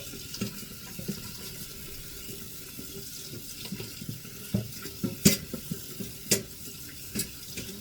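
Tap water runs steadily into a kitchen sink during washing up, with scattered clinks and knocks of dishes being rinsed, close and continuous, with no talking.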